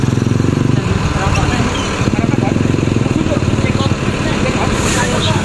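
A city bus engine idles and pulls away as unit number 22 departs with its engine hood left open, a steady close rumble throughout with talk over it.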